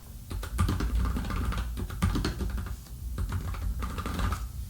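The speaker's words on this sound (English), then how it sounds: "So that's my Nuphy Air 75 keyboard with the wrist rest." Typing on a Nuphy Air 75 low-profile mechanical keyboard fitted with a wrist rest: a steady, close run of quick keystrokes with no talking.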